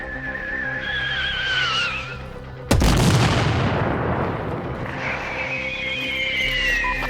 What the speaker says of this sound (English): Fire mortar strike! Get back! Mortars incoming!